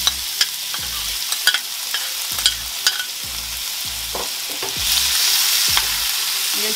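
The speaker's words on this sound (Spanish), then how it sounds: "voy a freír la cebolla y el jitomate" Onion and tomato frying in a pan, with a steady sizzle broken by regular scrapes of a spoon stirring, and the hiss swelling louder toward the end.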